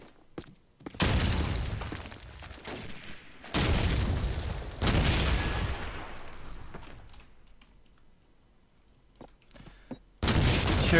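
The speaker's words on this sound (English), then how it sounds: "Church grenade, and it lands onto Fico." Grenade blasts and gunfire in a competitive team shooter match, with loud booming bursts in repeated waves over about eleven seconds and brief quieter gaps between them.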